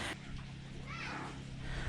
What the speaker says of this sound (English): Hey Luna, my cat.